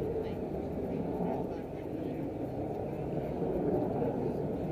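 An F-18 Super Hornet with afterburners lit climbs near vertically at an air race, a broad, steady distant jet roar under a speaking announcer.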